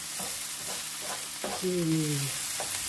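Small garlic pieces frying until lightly golden in a Silvercrest Cook'n Mix from Lidl: a continuous close sizzle, broken by several rhythmic stirring scrapes and a brief squeaky rub.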